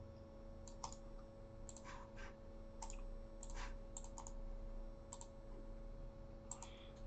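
A password being typed on a computer keyboard, a quiet scatter of key clicks in small bursts with pauses between them, faint against a steady low hum.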